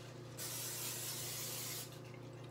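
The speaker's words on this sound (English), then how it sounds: "You want to spray your baking dish" A single hissing burst of cooking spray onto a baking dish lasts about a second and a half over a low steady hum, close and quiet.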